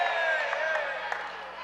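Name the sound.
crowd cheering at a wheelchair basketball game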